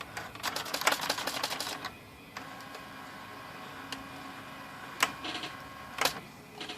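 A Brother 4000 typewriter's repaired index line feed motor runs in quick mechanical bursts, then gives a few isolated clicks and whirs, close up and moderately loud on a quiet bench.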